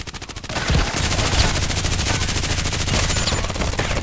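Rapid automatic gunfire from Contract Wars rattles loud and close in a sustained, even stream of shots after a few lighter opening bursts.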